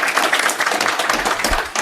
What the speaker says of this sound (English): Let's give the conference people a round of applause.